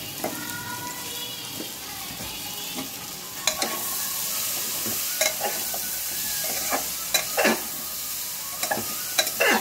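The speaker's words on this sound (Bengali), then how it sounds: "এবার দেবো লকি, লাউ দিচ্ছি।" Bottle gourd goes into a hot pan for a lentil and gourd dish, sizzling steadily while a spoon stirs it with irregular clinks and scrapes against the pan.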